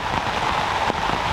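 Heavy rain drums steadily on a camping tent annex in wet weather on the Olympic Peninsula, a dense, loud, continuous patter close overhead with no talking.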